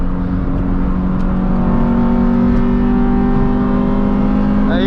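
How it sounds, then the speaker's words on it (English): Honda Integra engine revving hard as VTEC engages, a loud steady drone with strong rising harmonics held close throughout, ending with a brief upward sweep. "Hey yo, VTEC just kicked in,"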